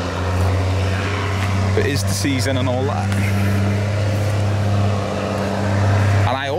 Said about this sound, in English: A bit of ploughing is going on at the minute.